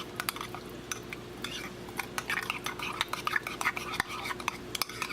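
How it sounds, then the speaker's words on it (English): A spoon clinks and scrapes steadily around a bowl as homemade tzatziki sauce is mixed, the taps quick and close against a quiet background. "now we're just going to give everything in this bowl"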